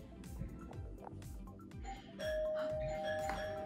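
A doorbell chimes clearly indoors, a sustained ringing tone over faint background noise, with no talking.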